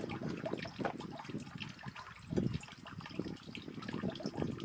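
A gentle, steady stream of water flows and splashes from a stone spout into a tank at Sagargad fort, fairly close, with a soft continuous gurgle and no voices.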